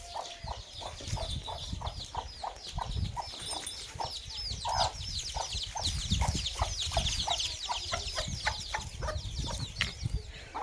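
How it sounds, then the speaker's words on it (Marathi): Hens being fed in a farmyard give a busy, continuous chorus of rhythmic clucks, close and loud, with overlapping calls and a few wing flaps at the edges. "जायच्या आधी काय करते, कोंबड्यांना थोडं खायला टाकते."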